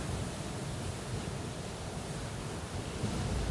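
Steady roar of large ocean surf washing in continuously, broad and unbroken, with no voices.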